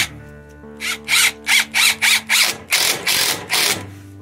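Power drill driving screws into a deck board while a ramp is built, a humming run-up followed by a rapid series of close, loud whirring bursts as the screw seats.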